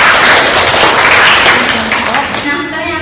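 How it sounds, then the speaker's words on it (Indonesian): Applause for a student named Indah in a classroom, a broad, loud wash of clapping from a group that fades out after about two seconds. "tepuk tangan buat Indah dong."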